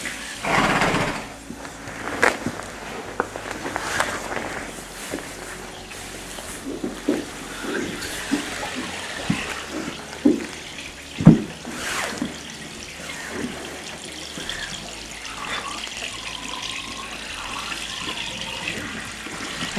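Norwegian Fjord mare's water breaking during foaling, with fluid gushing and splashing out in irregular wet bursts and trickles, close and moderately loud, with no voices.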